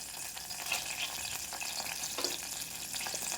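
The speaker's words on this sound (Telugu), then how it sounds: "ఆ తర్వాత దంచి పెట్టిన వెల్లుల్లి వేసేసాను. అవి కూడా బాగా వేగాలి." Crushed garlic and cumin frying in oil in a pressure cooker, a soft continuous sizzle with faint stirring scrapes, close but quiet.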